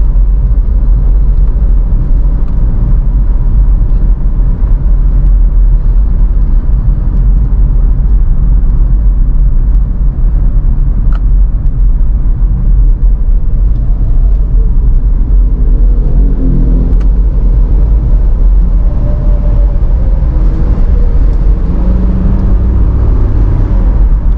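Mitsubishi Pajero Sport Dakar 2012 heard from inside the cabin while driving, with a loud, continuous low engine rumble and road drone that swells slightly with the throttle and carries no speech.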